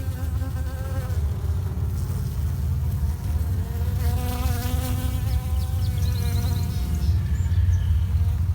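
Honey bees in an open hive brood chamber give off a dense, continuous droning buzz close up, with many overlapping wingbeats and no talking.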